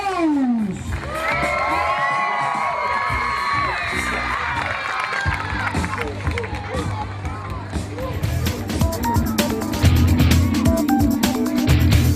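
Rodeo crowd cheering and whooping, with shouts and hollers rising over a busy arena din, continuing loud throughout alongside other background activity.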